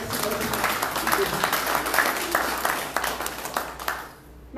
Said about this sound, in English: Round of applause for everybody and all their efforts to bring this together.